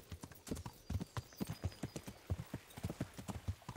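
A horse gallops in the video game Kingdom Come: Deliverance, its hooves drumming in a quick, even clip-clop rhythm, close and clear, with no talk over it.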